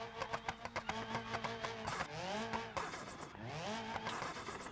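Car engine in the driving game BeamNG.drive, revving up through repeated gear changes with rising and falling tones, the engine newly broken in.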